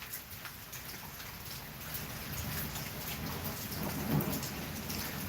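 Steady rain falls across surfaces during a thunderstorm in East Oklahoma City, a continuous hiss with low thunder rumbling underneath and a brief swell near the end, no talking.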